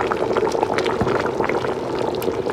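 A pot of water boils on the stove with a steady, close bubbling and gurgling hiss that does not change throughout.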